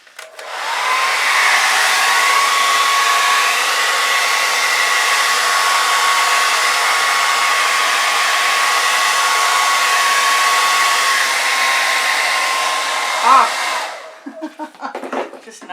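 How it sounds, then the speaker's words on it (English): A blow dryer running steadily at close range while drying poured acrylic fluid art paint, a loud continuous whooshing hum with a faint whine, lasting long before switching off into some small handling noises. "Just not used to that blow dryer at all."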